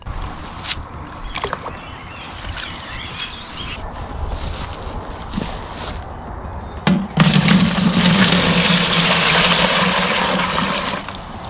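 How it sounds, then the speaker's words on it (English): Homemade plant fertilizer being strained and diluted with water, a steady close pouring and splashing of liquid that starts abruptly partway through and runs continuously to the end, after quieter rustling and handling sounds. "Strain it and dilute with water at a 1:5 ratio before watering."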